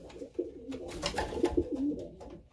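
Young pigeons coo softly inside a pigeon loft, a few low, throaty, rolling calls overlapping at close range in a quiet space.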